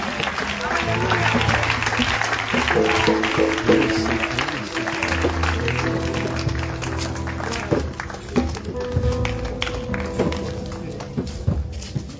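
A church congregation applauds and cheers with loud, steady clapping under voices and singing; the clapping thins out toward the end into scattered claps.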